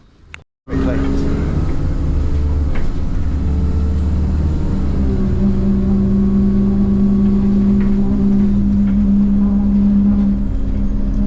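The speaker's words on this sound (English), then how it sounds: "So I'm boarding Enviro 200 now with Central Connect, heading off to Baldock" An Enviro 200 bus run by Central Connect, fitted with air brakes, starts with a sharp burst, then settles into a loud, steady engine drone with tonal hum that shifts slightly in pitch as it keeps running.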